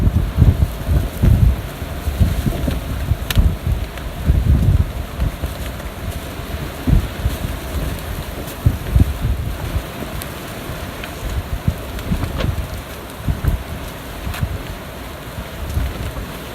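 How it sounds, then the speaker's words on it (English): Gusty wind blowing at a beach during an outdoor painting session, a continuous rough rumble of buffeting air against the microphone with uneven surges throughout and no talking. "it's windy now."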